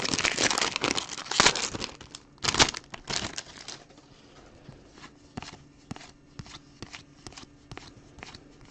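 Trading cards slide into plastic sleeves during a card break, giving crisp crinkling and shuffling rustles that come in dense bursts at first, then turn to sparser, quieter clicks and slides, close up with no talk.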